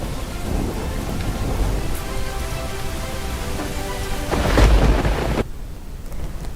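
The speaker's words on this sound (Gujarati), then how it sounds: "સુરતના પલસાણા કામરેજ પંથકમાં ભારે વરસાદ પડી રહ્યો છે" Heavy rain pours over Palsana and Kamrej near Surat, a loud continuous hiss with a deep thunder rumble swelling midway before the downpour eases off abruptly.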